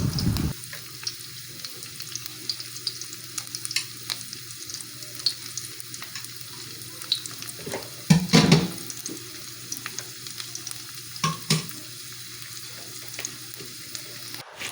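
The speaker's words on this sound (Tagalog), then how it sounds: "Isasangkot na po natin ngayon ang ating bawang." Garlic sautéing in a pan, a soft continuous sizzle at close range with scattered utensil taps and one louder clatter of stirring near the middle, no talking.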